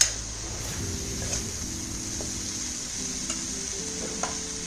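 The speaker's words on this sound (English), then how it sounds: "Keep stirring the vegetable." Cow pea (lobia) curry stirred in a pan with spices and oil, giving a soft continuous sizzle with faint scraping of the spoon and a few small clicks, fairly quiet and without talk.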